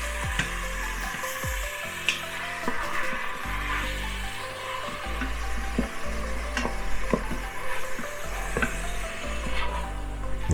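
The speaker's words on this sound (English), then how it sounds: "Saute it, make sure it's nice and brown." Ground turkey sautés and browns inside a pressure cooker, giving a constant sizzle broken by scraping and stirring strokes of a utensil against the pot, fairly close, with no talking.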